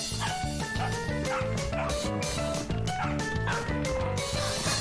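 A cartoon dog in an animated children's show barks and yips repeatedly in a quick rhythm over bright background music, loud and close.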